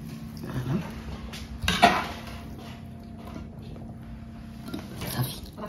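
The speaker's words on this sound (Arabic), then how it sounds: "دابا غنبداو نكبو في الطبيصلات ديالنا" Serving spoon scraping and clinking against plates and a pot while seffa mesfiouia with chicken is dished out, a few sharp clatters scattered over a quiet kitchen background.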